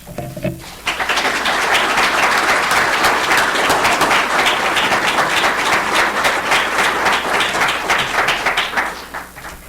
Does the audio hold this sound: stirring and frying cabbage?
no